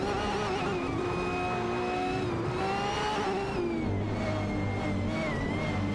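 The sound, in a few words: video game race cars, McLaren and Lamborghini Aventador SVJ racing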